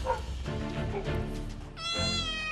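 A stray cat meows loudly several times up close, drawn-out and whiny, with a final long rising cry at the end.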